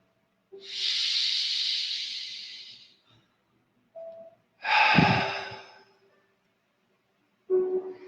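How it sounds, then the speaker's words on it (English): Slow, deep breaths in a calm guided-meditation setting during a spiritual service: a long airy inhale of about two and a half seconds, a brief pause, a shorter breathy exhale, then another breath beginning, close and clear with no talking. "Take a big deep breath for me."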